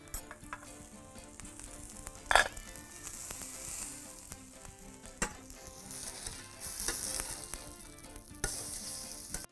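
Tomato slices, salted and coated in corn flour, crackle and sizzle steadily in hot oil, with a sharp clink near the start and no voices.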